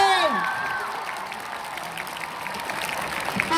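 School audience applause at a Children's Day show greets a teacher's song duet, a steady wash of clapping and crowd noise after a brief musical tone at the start.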